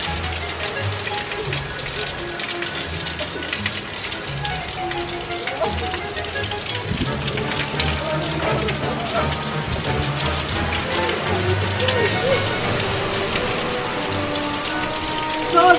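Rain from Hurricane Ian falls steadily in Orlando, Florida, pattering densely on nearby surfaces at close range. The wash stays constant, with faint voices now and then in the background.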